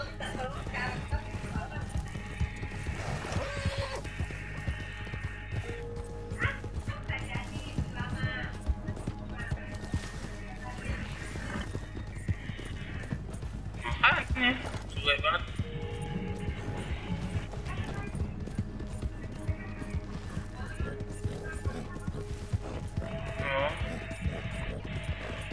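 Horse hooves gallop continuously in the Red Dead Redemption 2 video game, a fast drumming rhythm that runs the whole time beneath people talking and background game sounds.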